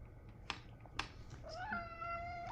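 Young kittens meow indoors, a few short cries followed by a longer drawn-out, rising meow, fairly close and alone over a quiet background.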